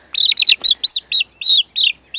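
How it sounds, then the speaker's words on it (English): A young backyard chicken whose wings are just coming in gives a run of bright, high chirps in quick, evenly spaced bursts, close and loud, with no talking over it. "Okay, so this is one of my chickens."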